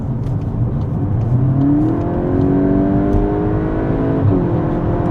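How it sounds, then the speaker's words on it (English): A Volkswagen Golf GTI Clubsport hot hatch accelerates hard to overtake, its exhaust giving a loud, close, rising engine thrum with gear changes and climbing pitch, no voices over it. "that thrum, that hum that comes from the exhaust, that bark when the exhaust isn't happy with you anymore, it wants to overtake things"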